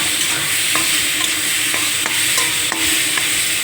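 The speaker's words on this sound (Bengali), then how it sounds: "আমি এবার ভেজে নেব।" Pointed gourd (potol), seasoned with nigella seeds, salt and turmeric, fries in a pan with a constant hissing sizzle, punctuated by light, repeated scraping clicks as it is stirred.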